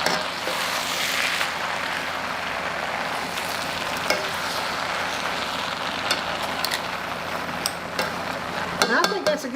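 Singapore chow mein rice noodles are stir-fried in a hot pan, with a loud, continuous sizzle and hiss. Intermittent stirring scrapes and utensil clatter run throughout, growing busier toward the end.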